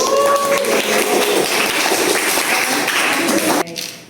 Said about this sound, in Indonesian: tepuk tangan buat El.